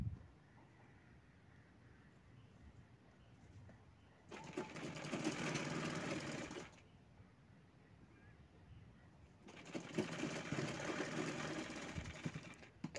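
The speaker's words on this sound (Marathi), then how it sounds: "परत एक साईडला अशी शिलाई घेणार आहे मी, अगदी काठावर." A sewing machine stitches a kurti along the very edge of the fabric, in two loud, steady bursts of rapid whirring separated by quiet pauses.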